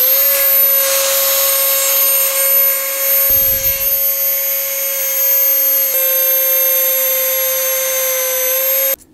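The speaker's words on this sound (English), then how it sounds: "now I'm going to use a Dremel to clean it even further, because I don't want to have no sharp edges on this" A Dremel rotary tool smooths the sharp cut edges of a louvre in a car bonnet, giving a loud, steady high-pitched whine with a brief dip partway through before it cuts off at the end.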